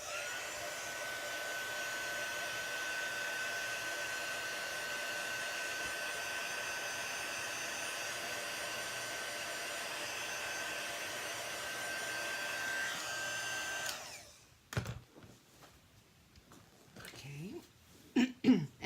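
A hair dryer blows steadily for about fourteen seconds while drying a watercolour painting, loud and close, then shuts off, leaving faint handling noises and quiet breathing.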